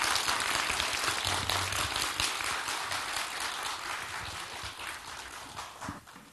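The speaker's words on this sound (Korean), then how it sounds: "교수님께 다시 한번 큰 박수 부탁드립니다." A lecture audience gives a professor a big round of applause at the close of a talk in a theater, a broad continuous patter of many hands that starts full and slowly fades toward the end.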